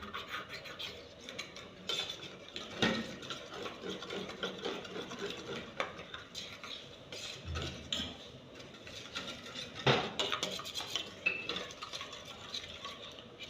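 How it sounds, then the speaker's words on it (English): A spoon scrapes and clinks around a pot of meat pie filling cooking on the heat, irregular close stirring knocks and rattles over a faint sizzle, with no talk. "So as I'm mixing it now, the meat pie filling is on fire. It's cooking, it's not done."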